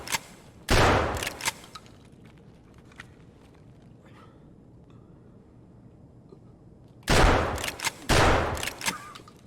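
Gunfire in Escape from Tarkov, with two clusters of loud, rapid shots at the start and near the end, separated by a quieter stretch of faint movement and ambient noise.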